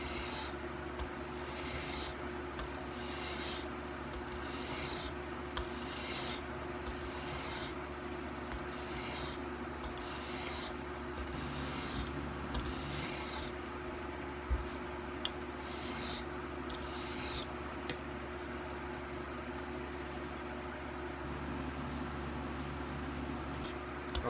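A chisel in a honing jig rubs back and forth on a cheap sharpening stone, a steady rasping scrape in repeated strokes, close and continuous with no voices.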